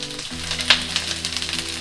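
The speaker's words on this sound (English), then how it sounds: "every good dish starts off with a sauteing or stir-frying onion" Onion stir-frying in hot oil in a pan for lo mein, a close crackling sizzle with scattered pops over a steady low hum, no voices.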